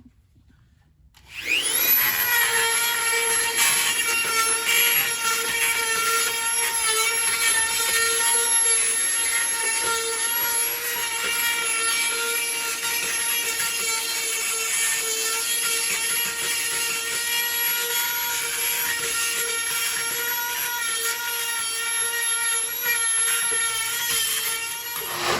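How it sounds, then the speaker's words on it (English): A Dremel rotary tool grinds out the inside of a suspension part on a 1974 Chevy Nova, a steady high whine that starts abruptly and runs loud and unbroken for the whole stretch with no talking. "So I'm going to break out the Dremel, go in there and clean out the inside so to make it easier for that thing to slide onto."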